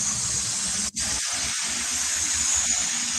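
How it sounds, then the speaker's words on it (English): A model train runs around a dusty track on a home layout, making a steady, close hiss-like rolling noise that continues throughout with only a brief dip. "It's kind of noisy in here with the train going on."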